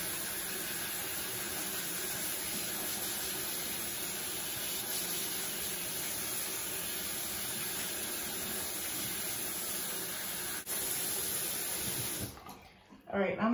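Running water rinses soap out of locs over a bowl, a steady close hiss and splash that goes on without a break, with someone talking over it and a brief drop-off near the end.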